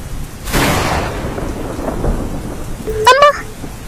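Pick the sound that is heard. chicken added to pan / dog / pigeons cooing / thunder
thunder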